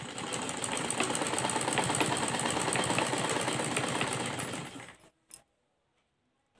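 A sewing machine runs steadily at speed stitching a kurti neck border, a close continuous whirring rattle that stops abruptly near the end, followed by a brief clunk and then quiet.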